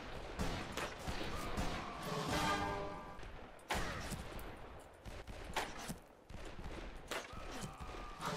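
Video game battle with grenade blasts and gunfire: sharp crashing bursts and rattling shots in quick irregular succession, fairly faint and distant, with a short whistling tone in the middle.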